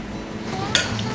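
A spoon scrapes and clinks inside a bowl while flour is stirred into noodle dough, making a soft, close, brief scraping with one sharper knock near the end.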